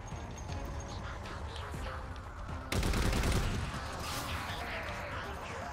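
Automatic gunfire in the video game Halo 4 rattles in steady bursts, then jumps louder midway into a heavier burst before settling back to continuous shooting.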